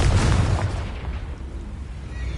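A Confringo blasting spell explodes in Hogwarts Legacy, a single heavy booming blast with a deep low rumble that decays gradually.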